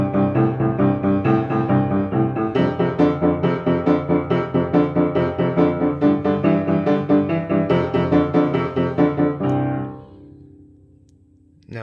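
A straight rock and roll rhythm on a one-four-five chord progression, played as evenly pulsing, full chords in a steady driving beat, close and loud, ending on a held chord that fades out.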